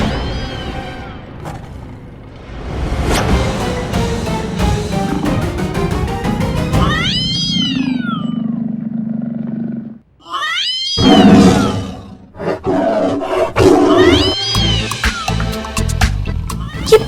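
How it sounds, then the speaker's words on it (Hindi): A mobile phone left on top of a cupboard rings with a cat-meow ringtone, sounding loud, repeated meows in several bursts with short pauses between them, layered over background music. "बिल्ली की आवाज कैसे आ रही है? ये पुष्पा जी का रिंगटोन है, उनका फोन बज रहा है।"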